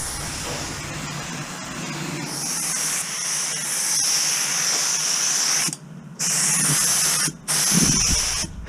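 A cheap paint spray gun hisses steadily, with two short breaks where the spray stops and then starts again, close and loud.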